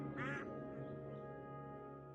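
A single short duck quack near the start, fairly loud, over a steady humming background.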